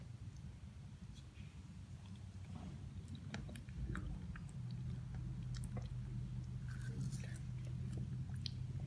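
Close chewing and crunching of a Cornetto Brigadeiro ice cream cone, soft bites and squishy mouth sounds repeating steadily over a low constant background hum.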